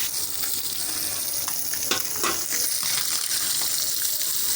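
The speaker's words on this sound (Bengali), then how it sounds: "এখন ভালো করে মাছটাকে ভেজে নেওয়া হবে।" Small chanda fish, rubbed with salt and turmeric, frying in oil with a steady close sizzle, plus a few brief spattering pops and stirring scrapes around the middle.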